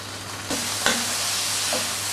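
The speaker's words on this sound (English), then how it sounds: "Just stir the halloumi around so that it browns on all sides." Halloumi sizzles steadily in hot oil in a frying pan, with a couple of scraping stirs against the pan partway through.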